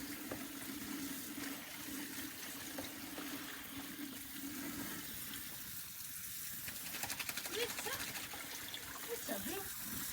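Water sprays and gushes steadily from a shower and garden hose, a constant hiss at moderate level with quiet voices talking under it.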